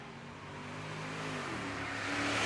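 A 5th gen Camaro and a GMC Yukon drag racing at a motorplex: steady engine drone building in loudness and rising in pitch over a couple of seconds, heard from a distance.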